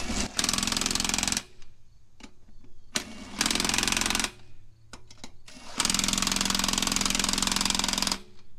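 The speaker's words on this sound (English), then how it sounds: "100 foot-pound torque stick" An impact wrench fitted with a 100 foot-pound torque stick tightens wheel lug nuts in a star pattern, giving loud, close rattling bursts of about a second or more each, separated by short clicks and pauses.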